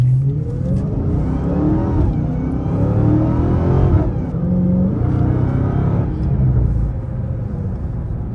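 A Dodge Challenger Hellcat Widebody Jailbreak engine revs and whines steadily up and down, loud and close, with a continuous rumbling drone throughout.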